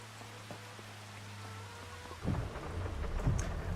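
Rain and a thunderstorm in the Farming Simulator 25 video game: steady rain hiss with a low rumbling thunder swelling partway through and growing louder toward the end, no talking.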